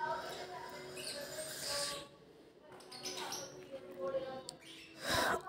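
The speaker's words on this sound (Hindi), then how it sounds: "अब तोतों की आवाज़ें आएंगी" Shrill, scratchy parrot squawks and chatter come and go over a background of people talking, with one louder burst near the end.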